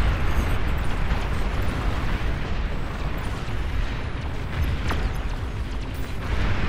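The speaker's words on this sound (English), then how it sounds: "Oh, bombing run. Hurricanes." Dense, continuous rumble of bombing-run explosions in the strategy game Beyond All Reason, a loud unbroken wash of booms and blasts with a few sharper cracks, no talk.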